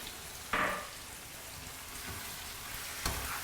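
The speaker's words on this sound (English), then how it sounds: "So give that a good stir. This is cooking away nicely" Chicken karahi curry sizzles gently in a pan as it is stirred, with a steady quiet frying hiss and two sharper scraping clatters from the spoon.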